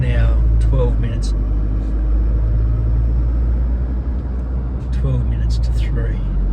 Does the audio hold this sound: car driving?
yes